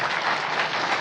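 Brief burst of crowd applause at a motivational business seminar, dense and even clapping for about a second.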